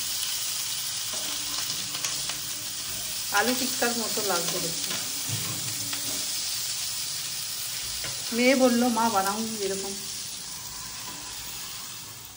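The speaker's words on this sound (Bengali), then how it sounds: "বন্ধুরা অনেকক্ষণ ধরে ভাজছি জানো তো" Thick potato pieces fry in a pan with a steady loud sizzle, occasionally stirred and turned, while someone talks over the cooking in two stretches.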